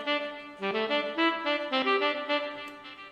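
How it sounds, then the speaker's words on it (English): A Gravity virtual-instrument saxophone carries a melody line of sustained, shifting notes with clear attacks, played alone and steady throughout. "Then I wanted to have a saxophone line on this"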